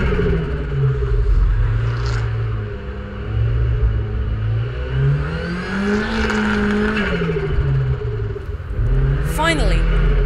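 Several modified cars, including a red S14 and a Skyline R32, roar off the line at a race start, engines surging and shifting in a loud, sustained rumble with a brief tire chirp near the end.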